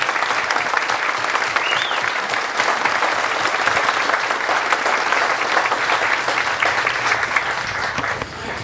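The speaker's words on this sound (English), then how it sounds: "Please give them your applause." An outdoor Memorial Day ceremony crowd applauds the Andrew High School Band, sustained dense clapping from many hands holding steady before easing off at the end.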